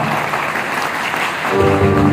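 A sustained wash of audience applause at a celebration honoring a Diamond Club, steady and dense throughout, with music-like tonal sound swelling near the end.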